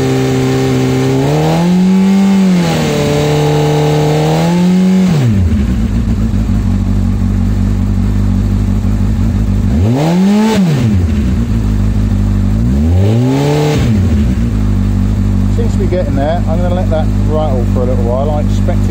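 A Honda CBF1000 motorcycle engine idles steadily throughout, with a couple of brief revs rising and falling, while a person talks over it.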